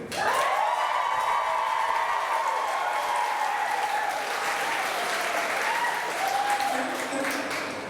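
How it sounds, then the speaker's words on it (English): A live comedy audience at a Valentine's Day show gives a loud, sustained round of applause, dense clapping and some cheering that swells early and slowly tapers over several seconds. "by round of applause, who would like to hear the person he's very compatible with?"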